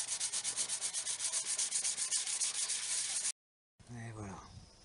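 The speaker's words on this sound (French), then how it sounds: "C'est bien sec, on peut poncer." Steady rhythmic sanding of a repaired part from a moped frame, probably a Peugeot 103 RCX, the rubbing strokes loud and close for about three seconds before stopping, followed by a brief voice.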